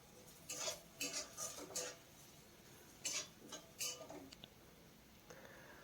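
A utensil stirs cumin and turmeric powder in a pan while a lentil and greens dish is cooked, giving a few quiet clusters of light metallic scrapes and clinks that come in short bursts with pauses between them.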